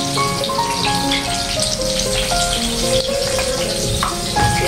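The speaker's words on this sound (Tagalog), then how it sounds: "So ready na tayo para magprito." Steady crackling and sizzling of an anchovy omelette frying in a pan, continuous and fairly loud, with faint clinks and background tones but no talking.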